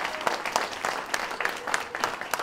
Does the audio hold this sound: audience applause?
yes